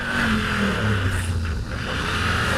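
A 2024 Triumph Tiger 900 motorcycle engine pulls hard on a road, a steady mid-loud drone with rising pitch and wind rush, heard from the rider's position with no talk.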